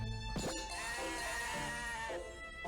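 Sheep bleating during shearing in the video game My Horse Prince, a couple of short, nasal in-game bleats over a steady backing tune, fairly faint.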